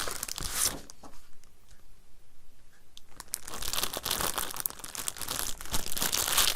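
Craft paper being cut down by hand, with crinkling, tearing rustles in bursts at the start and again through the second half, close and fairly loud, a quieter pause between.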